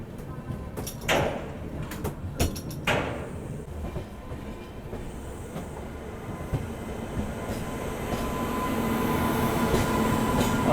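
The Gorakhdham Express pulls out of Ghaziabad station, with a few sharp clanks and door-like bangs early on, then a rising rumble of the moving train that grows louder toward the end.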